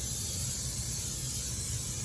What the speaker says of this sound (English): So basically, I'm just spraying this thing up, man.